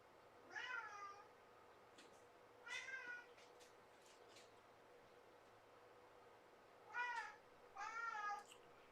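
A house cat meows four times, two pairs of drawn-out rising and falling cries spaced a few seconds apart, close and clear over a faint steady background hiss.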